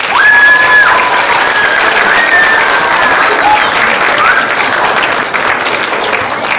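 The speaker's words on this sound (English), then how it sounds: "So big round of applause for Jean" Steady applause from a school audience fills a quail incubation project presentation, loud and sustained for several seconds, with a few high voices and whistles rising above the clapping.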